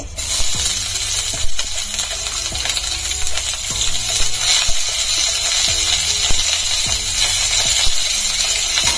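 Chopped onions with two dried red chillies fry in a pan for Malvani fish masala, a steady crackling sizzle running throughout with repeated metallic clinks of a spoon stirring against the pan.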